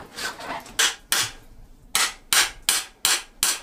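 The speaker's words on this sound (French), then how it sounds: "Marteau, burin." Hammer driving a chisel against a bike part during a frame build, about nine sharp metallic strikes in an uneven rhythm with short pauses, loud and close with no talk.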